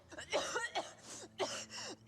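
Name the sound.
cough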